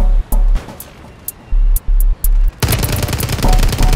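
Gunfire in the video game Call of Duty aimed at the player: loud bursts of shots in short repeated volleys, then a dense sustained stretch of rapid firing and impacts, up close.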